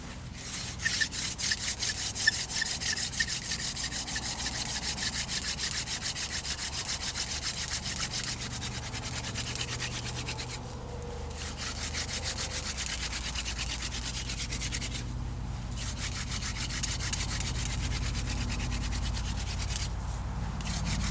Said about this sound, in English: get us a little hand drill fire going here